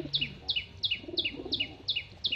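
Chirping bird calls repeat in a steady rhythm, about seven bright double chirps, over soft low murmuring from a pigeon loft housing Zeria Madras pigeons.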